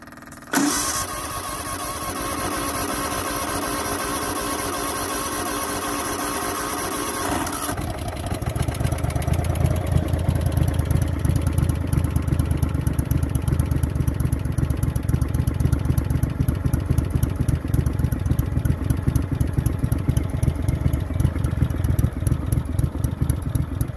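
A Craftsman Racer riding mower engine with the choke fully on cranks with a whirring starter for several seconds, then catches and settles into a loud, steady, close-up idle with a throbbing beat.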